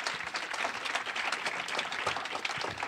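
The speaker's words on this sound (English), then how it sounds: "just give yourself a round of applause" An audience at a periodic paralysis conference applauds steadily, a dense wash of many hands clapping at an even level throughout.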